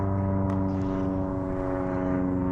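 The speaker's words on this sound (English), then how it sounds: "Got an airplane flying above." An airplane passes overhead as a continuous, even engine drone that holds steady throughout.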